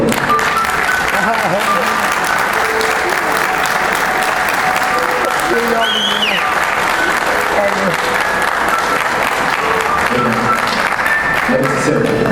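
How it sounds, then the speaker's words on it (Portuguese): Sustained audience applause fills a university engineering graduation ceremony at UTFPR, a large crowd clapping densely and loudly throughout, with some cheering and voices mixed in. "Uma salva de palmas para eles, por favor."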